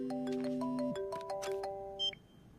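A phone call ringing through and connecting, with a short electronic ringback melody of stepped tones followed by a quick click and beep as the line picks up, no voices.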